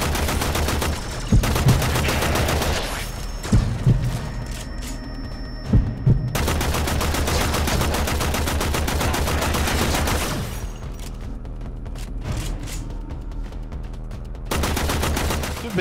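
Sustained gunfire in the video game Warframe on Xbox One, a dense, loud barrage of rapid shots and bursts running nearly throughout, with a few sharper cracks and a quieter lull near the end before firing resumes.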